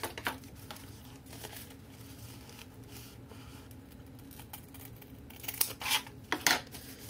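Scissors cutting scrap paper for a collage, a quiet rustle leading into a few sharp, close snips near the end.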